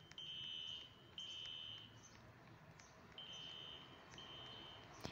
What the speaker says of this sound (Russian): Сигнализация работает.